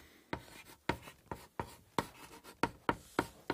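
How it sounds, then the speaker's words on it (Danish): Handwriting with a pen on paper: about ten quick, rhythmic scratching strokes, close and distinct, with short pauses between them and no talk. "Jeg skriver Ravnkilden."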